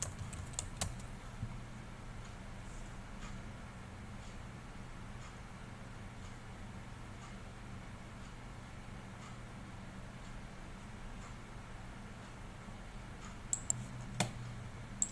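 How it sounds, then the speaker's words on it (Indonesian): Keys tapped on a computer keyboard while entering a password at a login screen: a faint, steady patter of small clicks over a low hum, with a few sharper taps near the start and end. "masukkan password yang tadi saya specify."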